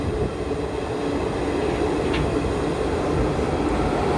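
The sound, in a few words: Bangalore Rajdhani Express train passing on crossing track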